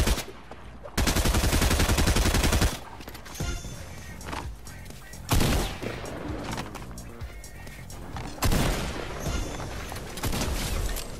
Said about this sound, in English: Where am I getting shot from?